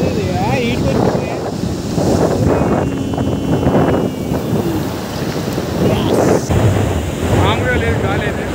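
Strong wind gusts roar by the sea in Goa, buffeting the microphone in heavy rushing bursts, with surf behind and people talking over it.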